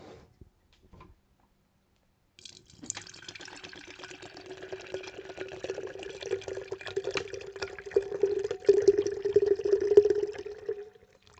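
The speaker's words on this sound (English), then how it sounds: "let's pour this and let's try this drink out" Monster Killer Brew (Mean Bean) canned coffee drink pours into a glass after a brief quiet start, a close, steady liquid stream that grows fuller and louder as it fills, heard alone.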